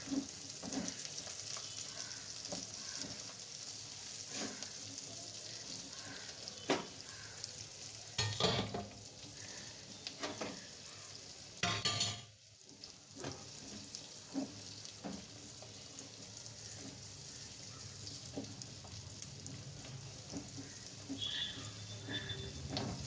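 Onion frying in a pan as carrot and capsicum are added, a soft continuous sizzle broken by scattered stirring clicks and scrapes, fairly quiet with no talking.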